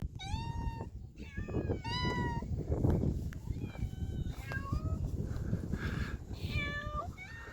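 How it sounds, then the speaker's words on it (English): Several cats meow repeatedly, close by and clear, in Santorini, Greece, over a steady outdoor murmur with faint voices in the background. "There's lots of cats here. There's so many cats here."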